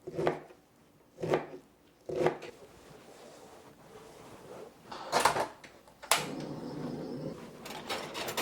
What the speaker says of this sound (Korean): 이렇게 칼로 자르면 다 잘라지기 때문에